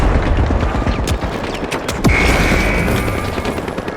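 Grenade blast and fast gunfire in the shooter game The Finals, a steady crackle of shots with a sharp boom near the middle and a lingering high whine afterward, loud and dense throughout.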